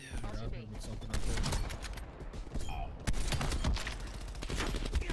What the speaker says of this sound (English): he's shooting me, go!